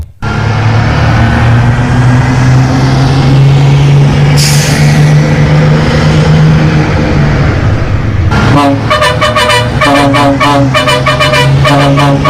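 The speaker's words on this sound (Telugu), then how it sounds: "అబ్బో ఎమ్మెల్యే సార్ అయినా ఎంత మంచిగా నడుపుతున్నాడో బస్సును" A new bus is driven by an MLA on a route through Sangem mandal, Warangal district. Its loud engine drones steadily and lets out a brief air hiss midway, then a quick run of repeated horn toots closes it.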